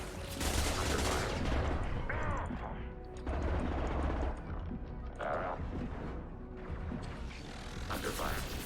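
Video game firefight: dense, continuous bursts of gunfire and impacts fill the scene at high volume, with brief dips between volleys and faint voices mixed underneath.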